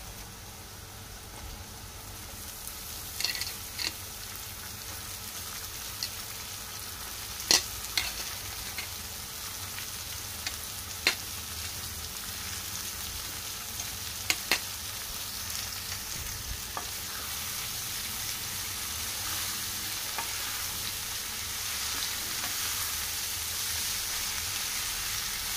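Cabbage frying in a pan with chana dal, a steady low sizzle with occasional scraping clicks from stirring, no talking.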